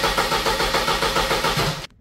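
A 1998 Mercedes-Benz R170 SLK230 with the supercharged M111 engine runs with its idle hunting, a steady pulsing engine drone close by that cuts off abruptly near the end.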